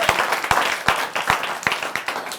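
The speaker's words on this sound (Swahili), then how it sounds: "Wapi makofi ya watu wetu wa Western Kenya." An audience claps steadily for a couple of seconds, with dense, uneven handclaps close by and only faint talk underneath.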